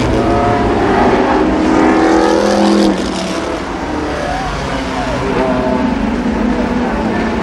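An Oldsmobile pace car and the racing field at an oval speedway roar together in a loud sustained engine drone at a fall race meeting, with a voice talking over the noise.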